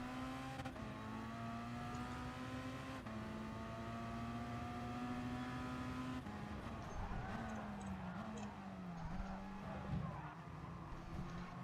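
Racing-game cars leave the start line together, engines holding a steady revving drone that shifts pitch as they accelerate, with some tire scrabble and faint skidding later on; no talk over it.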